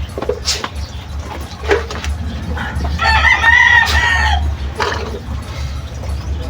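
A rooster crows loudly and close by, one long harmonic crow among clucking egg-laying hens, with more scattered clucks and barnyard noise before and after.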